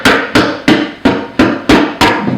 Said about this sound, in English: it's a rubber hammer